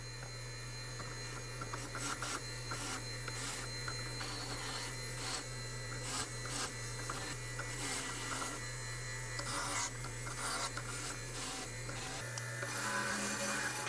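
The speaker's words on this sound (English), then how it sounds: "Now we're over to the bench grinder, get that everything all cleaned up" A bench grinder runs steadily while surface rust is cleaned off steel hand plane parts, a continuous whirring hum with gritty, scratchy grinding textures rising and falling as the pieces are pressed against it.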